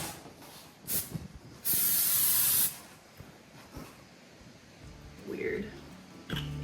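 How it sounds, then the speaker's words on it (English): A single long hiss of cooking spray from an aerosol can, aimed at cabinet sides during a van build, preceded by brief shorter bursts and followed by quieter handling noises and a few faint clicks. "I'm just gonna spray with cooking spray, I guess."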